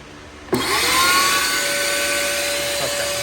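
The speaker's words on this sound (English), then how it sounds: "All right, we're gonna vacuum this out." A Stanley vacuum kicks on and runs loud and steady, cleaning out the inside of an NA Mazda Miata during a fuel pump job, with a constant whine throughout.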